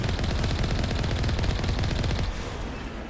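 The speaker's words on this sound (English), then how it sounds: "People are shooting me." Rapid automatic gunfire from a Mass Effect Legendary firefight, loud and dense with sustained bursts throughout, tapering slightly near the end.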